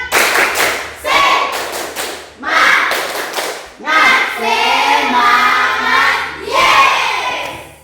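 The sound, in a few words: class doing a rhythmic spirit clap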